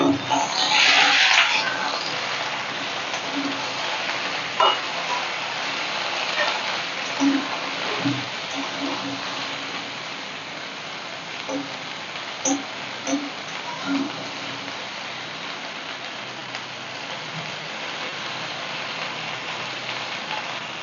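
Potatoes and pointed gourd fry in a pan with a steady, close sizzling hiss and a few soft clinks of a utensil turning them; faint speech sits under it.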